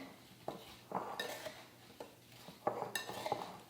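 Apple pie filling with nutmeg, sugar, cinnamon and lemon juice being mixed in a bowl: a few scraping clinks of a utensil against the bowl in irregular strokes, close and moderately loud, with no talking.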